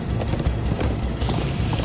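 Horses gallop in the Minecraft Story Mode video game, a loud, dense, rapid clatter of hoofbeats that runs continuously with mechanical rattling mixed in.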